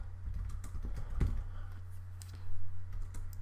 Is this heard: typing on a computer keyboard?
yes